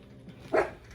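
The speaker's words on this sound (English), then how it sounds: "excuse my dog, they're obviously having a tug of war over food over there" A dog makes one short bark or growl, moderately close, while the dogs tug over food indoors, with a low hum behind it.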